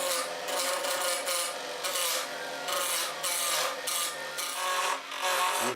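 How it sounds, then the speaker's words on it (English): A roughing gouge cuts into spinning wood on a lathe while turning a part for a Moroccan table, producing a steady, loud, hissing scrape that swells and dips in rhythm with each pass. "I'll use a roughing gouge to remove most of the material."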